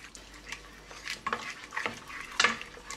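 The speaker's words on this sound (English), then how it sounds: "we're going to let this simmer until we have a nice and reduced sauce or glaze" A glaze sauce for roasted chickens cooks on low heat, with a faint, quiet bubbling and occasional soft scrapes and clinks of a utensil in the pan.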